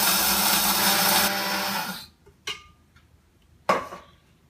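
An electric coffee grinder whirs loudly through beans for about two seconds, then stops, followed by a couple of sharp clinks and knocks from handling the grinder.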